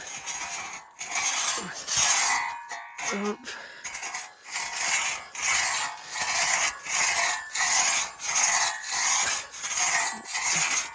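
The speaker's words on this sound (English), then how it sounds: "try sawing down a tree with a two-man saw" A two-man saw rasps rhythmically through a standing tree trunk, steady back-and-forth strokes repeating about once a second, close and fairly loud.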